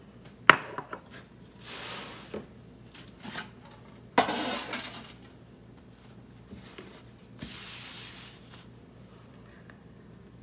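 Glass jars for homemade Christmas candles being set down on a counter, several sharp clinks and knocks spaced irregularly with soft shuffling between them, close and fairly loud with no voices.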